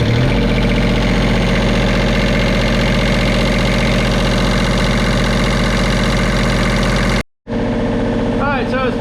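A Marine Trader trawler yacht's engine runs loud and close at a steady idle with a rhythmic knocking chug, cutting out briefly near the end before resuming.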